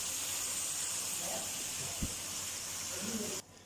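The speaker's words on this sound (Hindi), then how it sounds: "यहाँ 1 से 2 मिनट के लिए हम मसाले के साथ भूनेंगे।" Okra and fried potatoes sauté with masala in a pan, a steady, fairly soft sizzling hiss that holds evenly, then cuts off abruptly near the end.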